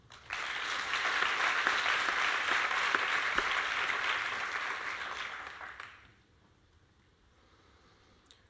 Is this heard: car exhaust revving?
no